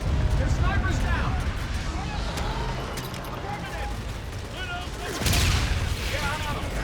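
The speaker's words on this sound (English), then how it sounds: "They're shooting civilians." Gunfire rattles through a civilian area in Call of Duty Infinite Warfare, a busy mix of shots and a heavier burst near the end, mostly under shouted voices.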